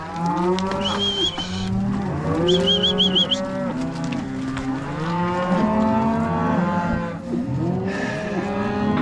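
Mother cattle at a calf weaning moo loudly and almost without pause, with many overlapping calls from a large herd near and far.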